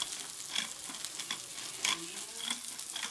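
A pan of food sizzles and crackles steadily as it fries, with occasional scraping and clattering as it is stirred, close and fairly loud with no talking.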